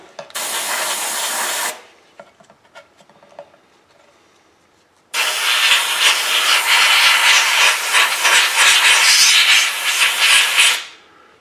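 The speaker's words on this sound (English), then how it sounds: "I've just set up the gun. I've mixed this pretty red, pretty milky." A spray gun sprays milky red paint onto a Dinky or Corgi diecast model car. It gives a loud, steady hiss in two bursts, a short one and then a longer one, with a quiet pause between them.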